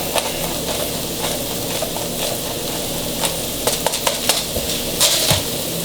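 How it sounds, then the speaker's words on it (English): Mushrooms sautéing in butter and wine with ground pepper in a pan, a steady close sizzle with occasional stirring clinks and scrapes. "We're going to saute these for a little bit, and then I'm going to toss the green onions in on top of those."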